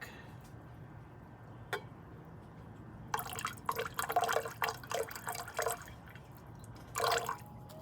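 Nitric acid, about 25 milliliters, is poured into a copper solution while refining gold: a single drip, then a few seconds of irregular trickling and splashing, quiet and close, with a short final pour near the end.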